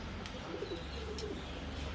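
Pigeons of several breeds coo softly at a pigeon farm, low repeated coos over a steady background hum, with a few faint chirps.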